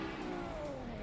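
Drift cars, a white Toyota GT86 and a red Supra, approaching in competition: a brief, fairly faint engine drone with a tone sliding slightly downward, heard at a distance.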